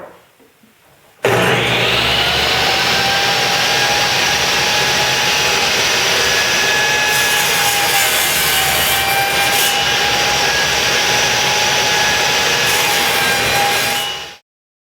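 Power saw cutting wood parts for a woodworking vise, a loud continuous high-pitched whine that starts abruptly after a quiet moment and runs steadily for about thirteen seconds before stopping.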